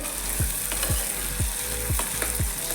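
Onions frying in a pan, Kathiyawadi style, a steady close sizzle broken by regular scraping stirs of a spatula roughly every half second.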